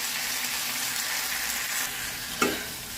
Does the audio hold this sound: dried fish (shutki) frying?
yes